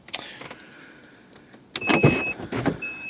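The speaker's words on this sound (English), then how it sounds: "we are ready to operate the top now" A 1991 Mazda RX7 FC3C convertible's electric top motor whirs with a steady high whine and a mechanical hum, starting after a quiet stretch of small clicks and running strongly, briefly pausing before resuming.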